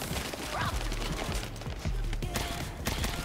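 Weapon in the game The First Descendant firing repeatedly in a run of rapid, fairly loud shots, set against steady game background sound.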